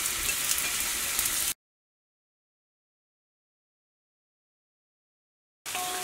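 Sliced onions sizzle in coconut oil in a pan for a Kerala onion-chilli chutney, a steady close frying hiss lasting about a second and a half before cutting to silence, then briefly returning at the very end.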